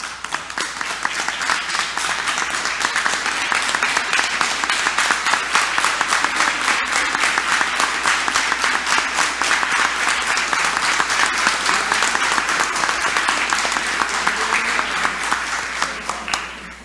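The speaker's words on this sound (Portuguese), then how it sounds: "eu queria pedir por parte desta casa uma salva de palmas e mostrar o nosso apoio a eles nesse momento" Applause fills a council chamber during a plenary session honouring teachers' day: a long, sustained round of many hands clapping at an even, loud level, tapering off only at the very end, with no voices heard.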